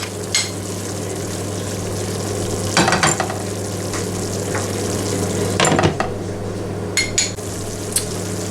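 Stuffed msemen with chicken sizzles in a pan, a steady soft frying hiss broken by a few sharp clinks of utensils against cookware.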